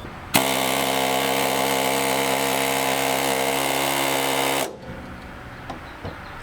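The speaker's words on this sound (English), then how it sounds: "the surgeon moved in with the air chisel to take all the glory" An air chisel works on an enduro race vehicle, a loud, steady, buzzing hammer that runs for about four seconds and then cuts off abruptly, leaving faint shop noise.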